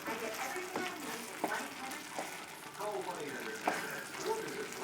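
Risotto with mushrooms, okra and turkey simmering and reducing in a pan, giving a low steady sizzle and bubbling with a few soft stirring scrapes, close by and fairly quiet, with no talk.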